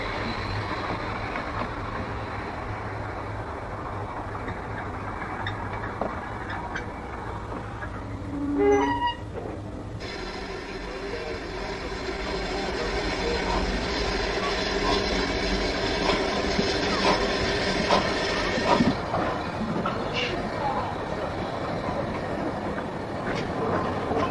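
A Ffestiniog Railway narrow gauge steam locomotive shunts at Porthmadog station, with low mechanical rumbling, a brief rising squeal of metal, then a sustained hiss of steam, heard from nearby.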